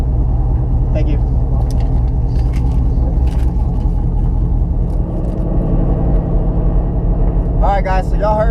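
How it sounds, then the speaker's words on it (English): A Camaro SS on an index race run gives a loud, continuous engine roar with rising harmonic sweeps as it shifts gears, ending in a high-pitched tire squeal. "y'all heard how bad I spun, and then also it shifted kind of weird on that one"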